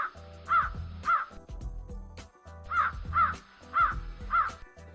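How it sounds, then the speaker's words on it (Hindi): A crow in a cartoon caws repeatedly, sharp harsh calls in short bursts of two or three with brief pauses between, fairly close and clear with no speech. "कहते हुए ये कौवा वहां से उड़ गया।"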